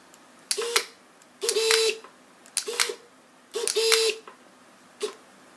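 Five short mechanical whirring clicks with pauses between them from a SRAM Red eTap electronic bike derailleur shifting, heard close up with nothing else around.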